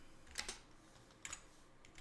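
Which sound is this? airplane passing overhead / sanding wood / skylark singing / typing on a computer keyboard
typing on a computer keyboard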